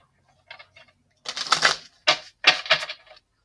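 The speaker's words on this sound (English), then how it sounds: "I'm just shuffling and cutting again" A deck of tarot cards shuffled and cut by hand: a few short, crisp riffling bursts with quick clicks, close up, with silence between them.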